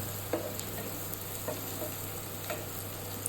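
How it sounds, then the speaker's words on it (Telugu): Bitter gourd frying with turmeric in a pan, a steady low sizzle with occasional faint stirring clicks at regular intervals. "ఇందులోనే కొంచెం పసుపు వేసి కొంచెం వేగనిద్దాము"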